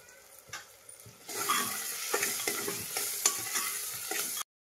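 Masala spices roast in a pan with a quiet, steady sizzle that starts after a near-silent opening second. Soft stirring scrapes and clicks come at intervals until it cuts off abruptly, and no one talks.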